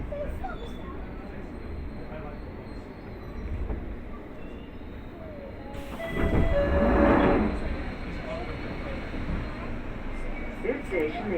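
London Underground tube train running between stations toward Finchley Road, a steady rumbling roar with a louder surge and squealing wheels midway, under faint talk.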